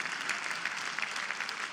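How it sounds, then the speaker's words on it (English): Church audience clapping in steady applause, a dense even patter of many hands filling the room without pause. "Y'all shouldn't have clapped to that."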